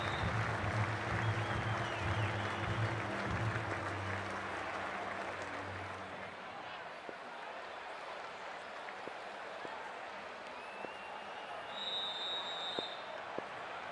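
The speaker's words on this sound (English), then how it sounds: "already the crowd is up and about" A stadium crowd in the Cricket 24 video game, a broad, steady wash of applause and murmur that stays loud throughout, with a low drone early on and a faint whistle-like tone near the end.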